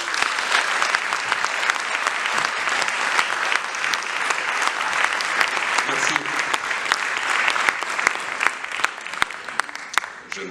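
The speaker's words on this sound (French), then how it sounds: "Je vous demande d'applaudir, s'il vous plaît" An audience at a film festival screening claps loudly and steadily, a dense sustained wash of applause close by that holds for the whole stretch with only slight swells.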